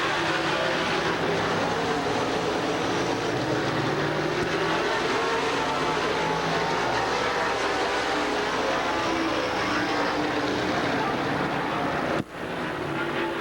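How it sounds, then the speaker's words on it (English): Chevrolet Monte Carlo stock car racing down the front straight of a speedway during a 1998 Hav-A-Tampa Series event, loud sustained engine roar with crowd and track ambience, ending in an abrupt drop near the end. "The Southern gentleman brings that Chevrolet Monte Carlo down the front chute as a white flag waves"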